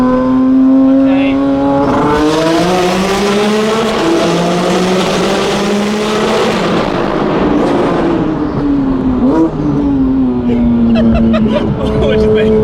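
Turbocharged car accelerating hard with windows down, a loud rising engine roar through several gear changes with sharp cracks on the upshifts, heard from inside the cabin as people talk over it.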